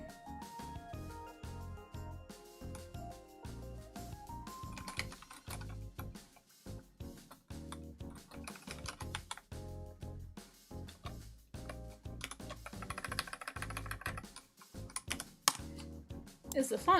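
Someone types on a computer keyboard during a coding stream, keys clicking in quick irregular bursts close by, with music playing underneath and brief pauses between runs.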